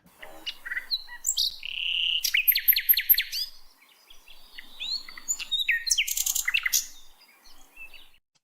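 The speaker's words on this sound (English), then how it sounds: "let's hit the bird noise." A bird chirping sound effect plays loud and close: two bursts of rapid, high tweets and trills separated by a short silence, with no voices.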